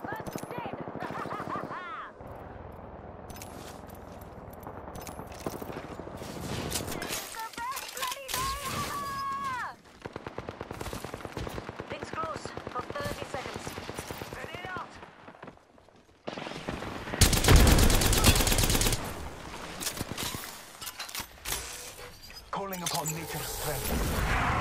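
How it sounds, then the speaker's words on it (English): Gunfire in an Apex Legends battle royale match exchanges in bursts of sharp cracks, mixed with game sound effects, under frequent voice chat and talk through most of the stretch, growing louder toward the end. "Taking fire."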